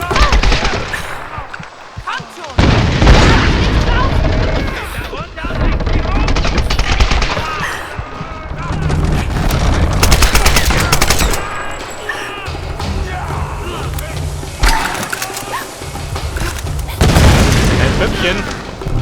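Bomb explosion in the 2013 Tomb Raider video game, heard as loud booming blasts amid rapid gunfire bursts and chaotic combat noise, with someone talking over much of it.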